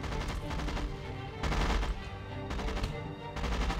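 Gunfire in the strategy video game Rise of Nations, as troops shoot at farmers: dense, continuous rattling volleys with heavier bursts, steady and loud throughout with no break.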